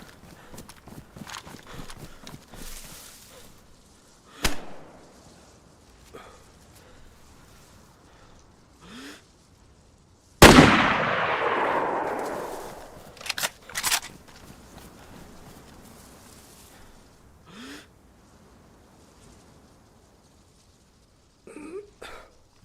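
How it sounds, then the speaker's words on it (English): Gunshots in the video game DayZ, on the Livonia map near a town and bridge: a few sharp shots with one loud, close blast that rings out in a long echoing tail, then fainter scattered shots. "That's me shooting."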